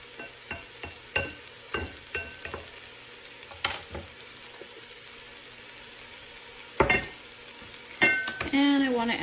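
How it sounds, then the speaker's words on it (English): Onion hits melted butter in a soup pot and sizzles quietly, broken by a series of sharp utensil taps and scrapes and a louder clatter near the end, with no one speaking. "And then to my butter, I want to add my onion."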